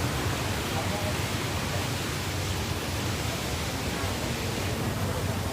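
Floodwater pours through a breached levee at Ban Samrong in Maha Sarakham, a continuous loud roaring rush that stays steady and unbroken from start to finish.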